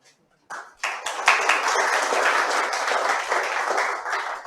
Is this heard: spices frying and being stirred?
no